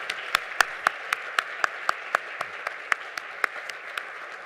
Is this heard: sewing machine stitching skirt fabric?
no